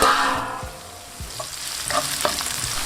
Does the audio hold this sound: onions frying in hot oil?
yes